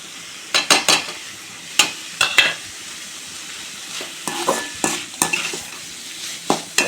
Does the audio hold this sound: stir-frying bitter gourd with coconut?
yes